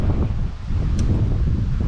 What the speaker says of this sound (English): I'm sorry about the wind. It's freaking crazy windy today.